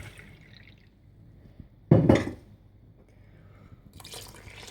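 Water is poured into a bowl of pancake batter with milk in a short splashing burst, followed by quieter trickling and faint drips.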